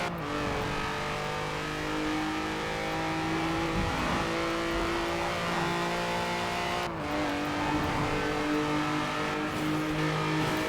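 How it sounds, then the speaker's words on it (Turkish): A BMW i8 racing in the game Forza Horizon 4, its engine droning steadily with rising and falling revs, a brief gear-shift dip midway, loud and continuous with no voices. "BMW i8'imizi görelim nasıl gittiğini"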